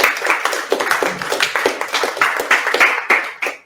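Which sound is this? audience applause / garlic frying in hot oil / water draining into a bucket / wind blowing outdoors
audience applause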